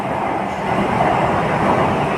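A Pune Metro train rumbles through an underground section near Shivajinagar with a loud, steady roar and a faint rattle of the cars.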